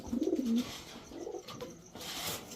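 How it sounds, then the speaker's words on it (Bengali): A pair of Baghdadi Huma pigeons, a male and a female, coo softly close by, with a low rolling call at the start followed by quieter rustling and faint coos, with no talking. "এই দুইটা হচ্ছে একটা জোড়া কবুতর।"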